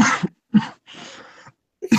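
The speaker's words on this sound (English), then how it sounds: "You got a sick man to cough and laugh." Three or four harsh coughing bursts from a sick man, close to the microphone, spaced by brief silences with a slightly longer rasping cough in the middle.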